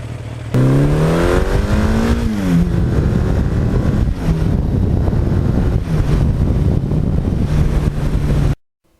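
A 1982 Suzuki GS1100E motorcycle engine revs loud and close, climbing sharply in pitch, dropping back, then holding a steady rumbling idle with brief blips before cutting off abruptly; wind buffets the microphone throughout.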